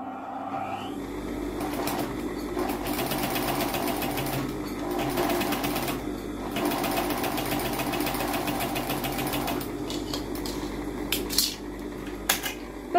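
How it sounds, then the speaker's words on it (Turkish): A sewing machine runs in steady continuous stitching along the hem of a fabric face mask, a close rapid mechanical whir that pauses briefly a few times before a couple of clicks at the end. "Şimdi makineyi açıp dikişi tamamlayacağım ben."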